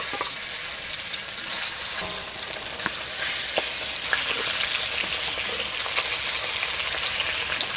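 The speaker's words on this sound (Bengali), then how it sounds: "এবার মাছটা ভেজে নেব।" Fish fries in hot oil with turmeric and salt in a village kitchen, a close, steady sizzle with crackling pops and brief spattering bursts that continue throughout.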